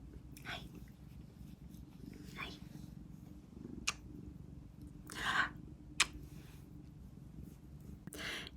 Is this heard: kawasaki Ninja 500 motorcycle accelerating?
no